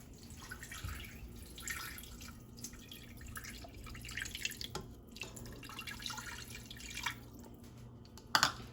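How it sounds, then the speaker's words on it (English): Water is poured from a one-cup measure into a Ninja pressure cooker holding meat for a pot roast. A faint, soft trickle with small splashes runs steadily for several seconds at close range, with a quiet background hum. "First, I'm gonna go ahead and pour my water in."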